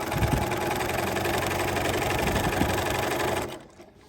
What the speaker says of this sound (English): I'm just going to sew on that line around the whole quilt.